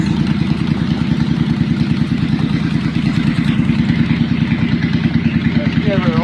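An old motorcycle engine idles inside a shop after sitting unstarted for a few weeks, a close, loud, rhythmic chugging that stays even throughout, with a voice talking over it.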